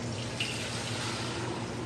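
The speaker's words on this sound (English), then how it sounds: "we're just gonna pour this right in here." Blended pineapple and coconut piña colada mix pours into a container outdoors on a Caribbean coast, a soft continuous liquid stream running steadily and fairly faint with no talk.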